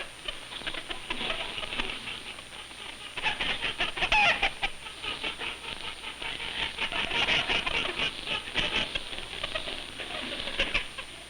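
Hens clucking and murmuring softly in a busy, continuous chatter, with scattered pecking and scratching noises throughout, on a 1940s farm.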